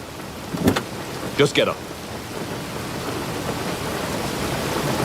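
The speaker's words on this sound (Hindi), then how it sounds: "लेकिन बाहर बारिश हो रही है।" Heavy rain and rumbling thunder outside during a scene in the 2005 Bollywood film Yakeen, a steady hiss of rain continuing throughout, with voices speaking briefly over it early on.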